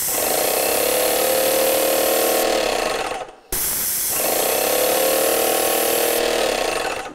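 An airless paint sprayer pump runs loudly and close, flushing old paint from the pump and line into a bucket before ceiling spraying, with a steady mechanical rattling drone, a brief cutoff midway, then restarting.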